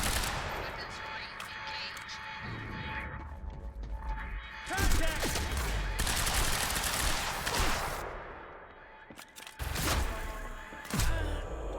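Gunfire in the video game Quantum Break, loud bursts of rapid shots and heavy impacts filling most of the stretch, with voices speaking amid the shooting.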